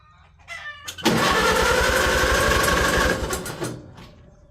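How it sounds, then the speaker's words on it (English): An old tractor engine cold-starts with the choke on during a warm day: a brief cranking, then it catches into a loud, steady, close-up running clatter for a couple of seconds before easing down. "I guess it's a cold start on a 75-degree day"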